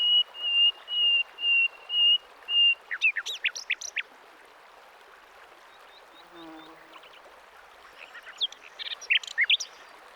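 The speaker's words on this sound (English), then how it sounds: "Concealed between the branches, a nightingale." A nightingale hidden among branches by a creek, giving a run of rich, evenly spaced whistled notes followed by rapid chirping phrases, near and clear over a soft wash of flowing water.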